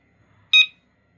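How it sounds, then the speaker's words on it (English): A TECKNET bicycle alarm gives one short, bright electronic beep when it locks. The beep is a single clean tone about a quarter second long, close by and loud against near silence. "it does one beep."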